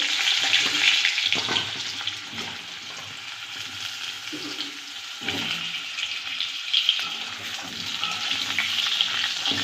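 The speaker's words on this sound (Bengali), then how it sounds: "কড়াইতে দিয়ে দেব তেল তেলটা গরম হয়ে গেছে এবার আমি আলুগুলো ভেজে নেব" Potatoes fry in hot oil in a wok (kadai), a steady sizzle and crackle running throughout with scattered stirring clinks and scrapes.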